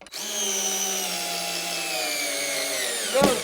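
A DeWalt 8-volt power screwdriver whirs steadily and loudly for about three seconds with a rising motor whine, then stops with a brief clatter at the end.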